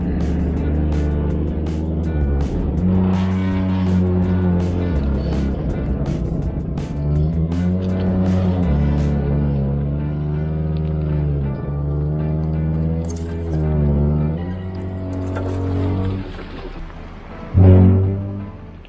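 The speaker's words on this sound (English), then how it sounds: "you can hear here just the brakes are just really straining as we go through this particular section" An off-road vehicle grinds through a muddy trail section, its brakes straining with a loud, sustained, groaning drone that wavers in pitch throughout, ending in a brief louder burst near the close.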